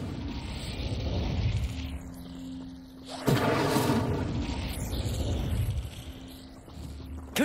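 Casting an Incendio fire spell in Hogwarts Legacy: a low rumbling roar builds, then a sudden loud whooshing burst of flame breaks out and fades back over several seconds.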